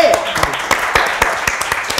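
A few guests at an informal New Year's party applaud, sharp individual claps in an irregular burst, close by, with people talking and laughing over them.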